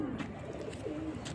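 Rare Omani-breed pigeons, including a teddy female, coo in soft repeated phrases, close by, over a steady background hum.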